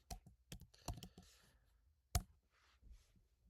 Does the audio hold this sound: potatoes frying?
no